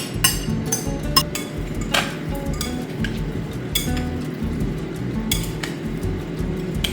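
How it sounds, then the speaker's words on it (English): A spoon scrapes and clinks inside a bigger bowl as a bruschetta mixture is stirred, with irregular sharp clinks over a soft continuous churning, close and without talk. "Put it in a bigger bowl. I'm going to stir"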